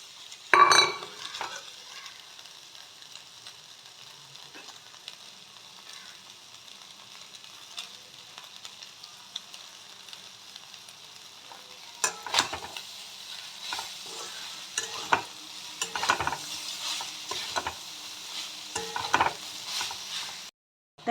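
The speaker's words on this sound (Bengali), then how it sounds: "এবার ম্যাগিটা দিয়ে দেবো" Maggi noodles tossed and stirred in a frying pan with masala, giving a soft continuous sizzle with intermittent scraping strokes of a spatula that grow busier toward the end, close and quiet with no talking.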